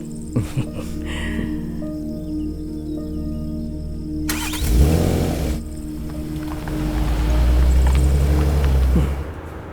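A car engine runs steadily with a low hum as the vehicle is driven in a Hindi-dubbed film scene, swelling into a louder rev midway and again near the end, with no talk over it.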